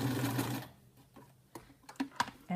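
A sewing machine back stitching a unicorn plush toy runs in a short close whirring burst, then stops, followed by faint clicks and small handling taps.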